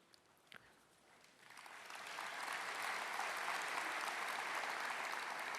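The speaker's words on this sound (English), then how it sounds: "When we talk money, we get applause." Applause from a conference audience at the Singapore FinTech Festival swells from a faint start into broad, steady clapping that holds at a moderate level, heard a little way off with no talking over it.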